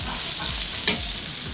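Burger patties of loose beef mince fry on a hot BBQ, a dense steady sizzle with one sharp scrape or clack as a patty is flipped.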